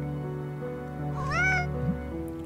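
A cat meows in the horror adventure game Children of Silentown, one rising and falling call heard close and clear over a steady droning game soundscape, with no talking.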